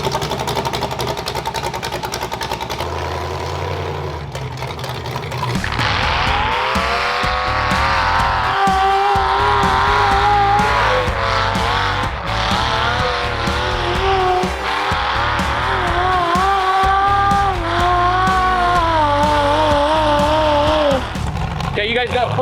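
A 500-horsepower demolition derby car roars loudly on its first break-in run, its engine revving and rising in pitch over and over with squealing tires, and voices are heard faintly through the noise.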